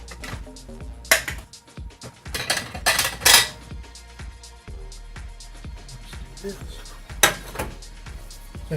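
Someone handles a Chef Rimer microwave popcorn popper bowl with handles, making clinks and clatters against dishes and a counter in irregular bursts, while a person talks nearby.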